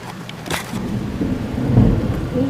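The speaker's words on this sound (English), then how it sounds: "there's lightning and thunder too" Steady rain hiss with low rumbling thunder building and swelling, close and fairly loud, no voices over it.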